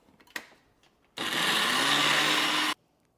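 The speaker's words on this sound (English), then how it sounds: "I'll put them in the blender and I will blend them to puree them." A blender purees organic blueberries in one loud, steady whir of about one and a half seconds, starting and stopping abruptly after a soft knock from setting it up.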